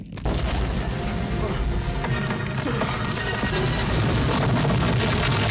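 A rolling globe made to sound like a massive concrete boulder: a deep, heavy rumbling roll grinding along continuously at close range, loud and sustained throughout.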